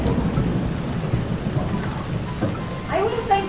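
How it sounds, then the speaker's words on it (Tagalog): Heavy rain pours steadily during a storm, with deep thunder rumbling through it, and faint voices and household clatter near the end. "Nang lakas na ng bagyo."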